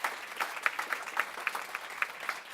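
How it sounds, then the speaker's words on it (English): An audience at a food-politics lecture gives a round of applause after lunch, a moderate burst of scattered hand claps from a modest crowd heard a little way off. "I think we ought to give people a round of applause for that wonderful lunch"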